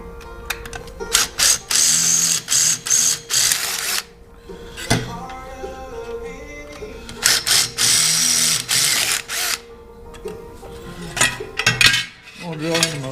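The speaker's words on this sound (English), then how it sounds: "Drill me some places for some spot welds." Bursts of a power drill boring holes in the steel trunk pan of a 1968 Chevrolet Impala fastback, several loud whirring runs separated by pauses, with metallic clanks and handling noise between them.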